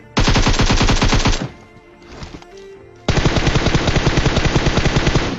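Rapid automatic gunfire in Battlegrounds Mobile India hammers out two loud sustained bursts, the first about a second long and the second longer, separated by a brief quieter pause with faint in-game sounds.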